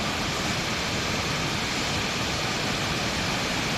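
Tad Siang Lue waterfall sends up a constant, even roar of falling water, loud and unbroken throughout, with no voices.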